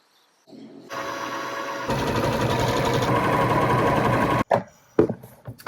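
A sewing machine stitches polyester lining fabric for a jacket, running in steady continuous bursts close by, ending with a few short clicks and handling noises.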